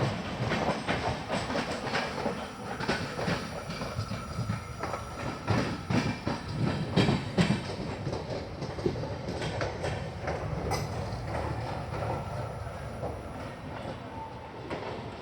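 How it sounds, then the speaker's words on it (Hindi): Poorna Express, the Pune–Ernakulam sleeper train, rolls into Madgaon Junction with steady wheel clatter and rhythmic clickety-clack over rail joints, heard from on board with the rumble holding loud throughout. "1:45 पर हमारी ट्रेन पहुंची है मडगांव जंक्शन"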